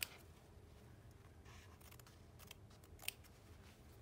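Scissors cutting through fabric in a few soft snips, with a couple of crisper clicks of the blades, faint and close, no voices.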